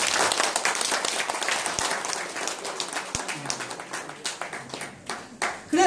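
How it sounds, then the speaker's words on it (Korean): A forum audience claps in a broad round of applause that starts full and gradually thins into scattered, separate claps near the end. "함께 하시면 박수 한번 주세요."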